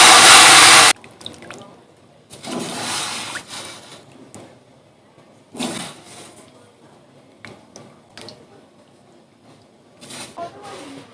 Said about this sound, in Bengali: তার জন্য কড়াইতে দিয়ে দিলাম জল।